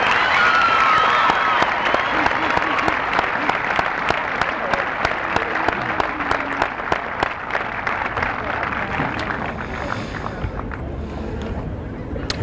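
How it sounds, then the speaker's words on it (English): An audience at a 1992 high school commencement ceremony gives sustained applause, a dense continuous clapping that fills the hall and slowly thins toward the end. "Let's give them a nice round of applause."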